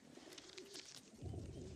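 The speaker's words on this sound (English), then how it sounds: "This is a good little English carrier pigeon." An English carrier pigeon coos softly in a wartime battlefield setting, a low murmuring call that swells louder near the end of the short stretch.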